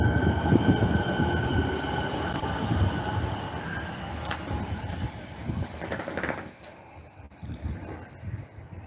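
A Siemens train in new livery passes close by, a loud steady rumble of wheels and motors with brief squeals, fading noticeably toward the end.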